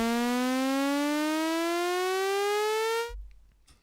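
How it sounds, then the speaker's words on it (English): Synthesized sci-fi sawtooth tone with pitch modulation rising slowly and steadily for about three seconds, loud and harmonically rich, then cutting off abruptly into near silence. "We're now going to give the rise to this sound, and we're going to do that using pitch modulation."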